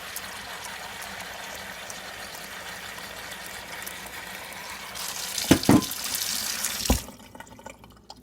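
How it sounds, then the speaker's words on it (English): Cold water from a kitchen tap running into a pan of boiled eggs, a continuous hiss of flowing water that swells briefly with a few knocks of the pan before cutting off to quiet. "Then you pour cold water back into the pan."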